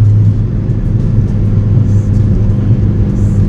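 A Skoda Fabia 1.9 TDI with a stage 2 tune accelerates hard, a loud, steady low diesel engine drone and rumble heard from inside the car.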